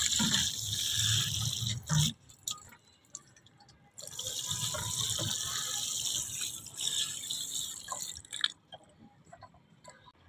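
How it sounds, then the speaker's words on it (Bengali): Water is poured into a tomato plant pot in a garden setting, with bursts of splashing and trickling that stop and start, interrupted by short gaps and faint dripping. "ভরপুর পানি দিয়ে দিতে হবে।"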